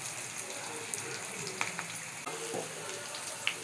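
Ghee sizzles steadily in a pan with onions frying for a home-style dum biryani, a continuous close crackling hiss with occasional small pops, no voices.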